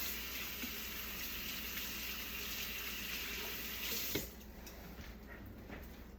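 Water runs steadily from a kitchen faucet as eggy fingers are rinsed beneath it, a quiet continuous splashing stream that shifts slightly in tone partway through.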